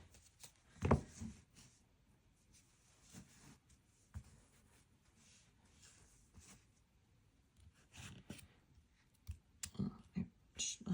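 Soft shuffling and riffling of cards, quiet and close, in short bursts with small clicks and taps between.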